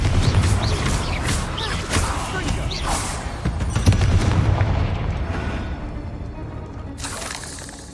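A Confringo fire spell going off in the Hogwarts Legacy video game, heavy booming blasts and crackling debris that fade near the end, followed by a short burst of fresh noise.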